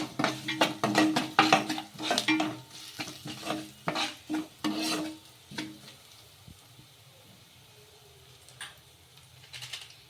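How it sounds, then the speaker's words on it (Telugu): Green chillies and chili powder frying in a pan and stirred with a spoon, giving quick, close scraping strokes over a soft sizzle that then give way to quieter frying. "ఒక స్పూన్ అంత కారం కారానికి తగ్గట్టు కారం అయితే వేసేసుకొని మళ్ళీ ఒకసారి బాగా కలిపేసుకుందాము"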